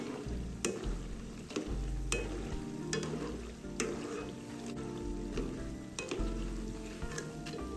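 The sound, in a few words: deep-frying dried shrimp rolls in oil while stirring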